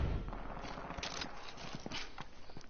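Sniper gunfire and other shots crack in the battle-royale game H1Z1, a quiet, somewhat distant series of sharp irregular reports over a low rumble.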